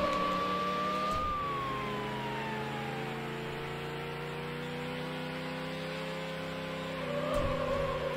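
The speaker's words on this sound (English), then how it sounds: "Sure is two sets of sirens blaring." Police sirens wail during a high-speed pursuit race in Need for Speed: Hot Pursuit 2 on Xbox, a gliding siren tone sweeping over a constant engine roar, with a sharper burst of noise near the end.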